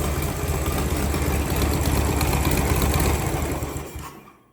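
A Lawn Chief riding mower engine fires and runs at a steady, loud idle for several seconds, then quickly fades out as it shuts down.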